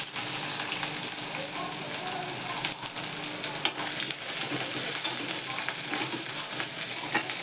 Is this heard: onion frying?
yes